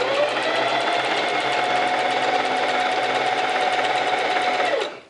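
Domestic sewing machine run by foot pedal, stitching a bias-bound edge in one continuous loud whirring burst with a rapid needle rhythm, stopping abruptly near the end; no talking.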